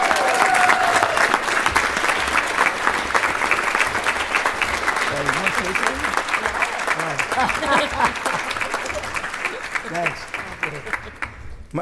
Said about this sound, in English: Can we give a round of applause to my sisters?